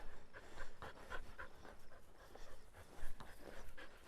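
Dogs panting on a ranch outdoors, a steady rapid breathing rhythm close by, continuing for several seconds over faint background noise.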